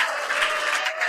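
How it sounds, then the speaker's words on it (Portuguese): A standing church congregation in Honiara, Solomon Islands, clapping their hands during worship, a short dense patter of claps with a sustained tone running beneath it. "Todo mundo fique de pé e bata palmas para Deus."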